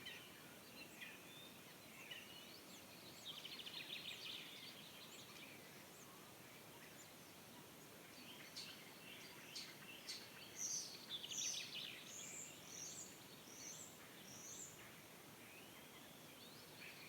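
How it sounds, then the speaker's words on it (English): Birds sing outdoors on a Latvian homestead terrace: faint, distant chirps and short trilling phrases come in scattered bursts over quiet rustling ambience, with no voice. "Just enjoy the bird song."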